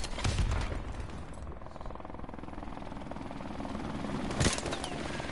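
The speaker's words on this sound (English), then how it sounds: "Helicopter's doing something." Helicopter rotor thumping steadily through a PS4 survival video game session, a continuous mid-level drone with a sharp burst near the end, heard without speech.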